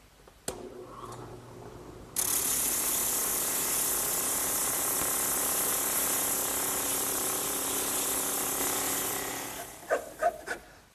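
A drum sander attachment smooths rough bandsaw-cut wood for a chair table, running as a steady, loud whir for several seconds after a couple of clicks, then winding down into a few light knocks.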